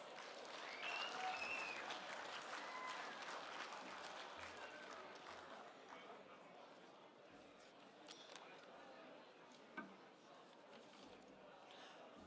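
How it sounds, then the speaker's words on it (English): Applause from an audience at a desert race presentation, a sustained scattered clapping that fades gradually, moderately distant, with faint crowd murmur and a few isolated knocks. "Let's give John and Bruce a big round of applause"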